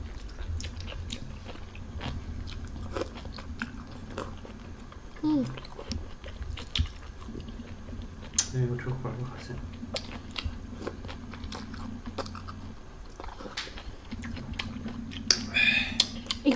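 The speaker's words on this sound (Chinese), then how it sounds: "这八爪鱼里面有墨汁啊，墨汁嚼起来特别鲜香" Close, wet chewing and crunching of a whole octopus with its ink, eaten with chili dip on a beach, steady bites and mouth sounds with occasional quiet speech.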